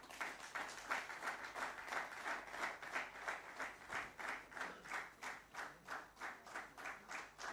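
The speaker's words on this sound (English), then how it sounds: "Let's welcome him on stage with a round of applause" Applause from an audience at a stock exchange opening bell ceremony settles into a rhythmic, evenly spaced clap pattern that stays fairly faint and continues steadily without talk.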